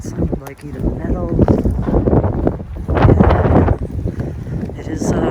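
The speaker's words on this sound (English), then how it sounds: "It is kind of getting windy. We're at a nor'easter." Strong nor'easter wind gusts buffet an abandoned hospital, a loud, continuous roar with rising and falling surges that peak mid-way, under and between voices talking.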